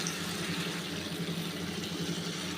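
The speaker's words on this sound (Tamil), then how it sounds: "இப்போ நம்ம வாட்டர் சேர்த்துக்கலாம்" Water pours steadily into a cooking pan of vegetables in a continuous splashing stream, fairly quiet and close, with no voices.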